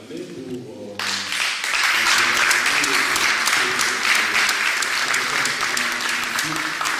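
Conference audience bursts into loud, sustained cheering and applause after a second of quieter murmur, dense clapping continuing steadily to the end.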